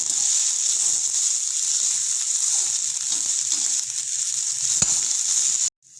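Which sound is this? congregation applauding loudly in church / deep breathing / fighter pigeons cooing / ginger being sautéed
ginger being sautéed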